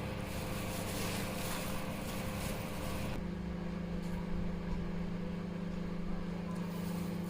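Microwave oven running in microwave mode while heating besan for ladoo, a steady low hum with a constant drone; a brighter fan-like noise drops away partway through, leaving the quieter hum.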